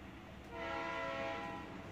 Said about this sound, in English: Please pardon the train being exceptionally loud today.